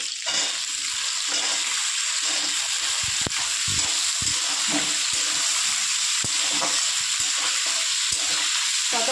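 Chopped potatoes and onion fry in a hot pan, giving a steady, close, continuous sizzle with occasional stirring clicks and scrapes throughout, and nobody speaks.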